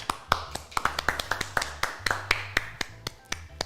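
A small group claps for a colleague on a cooking-show set, a quick run of sharp, close claps with uneven rhythm for a few seconds.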